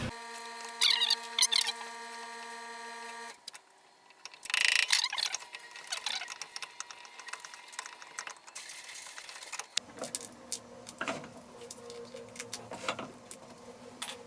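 A laminated resin cap on a prosthetic socket is cut off with a powered tool: a steady motor whine for a few seconds, then a harsher stretch of rattling, grinding cutting with irregular bursts, close and moderately loud.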